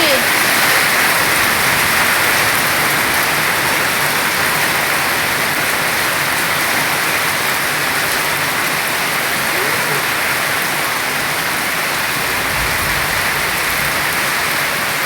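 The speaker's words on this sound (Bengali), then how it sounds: "হায় আল্লাহ, কি বৃষ্টি।" Heavy rain pours outdoors in a dense, steady hiss that holds at the same loudness for the whole stretch, with a faint voice now and then.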